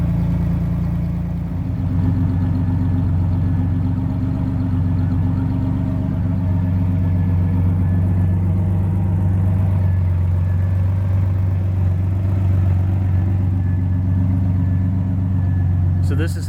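The 2.8-litre V6 engine of a Pontiac Fiero GT idles after a tune-up, a steady low rumble, even and continuous throughout, with no revving.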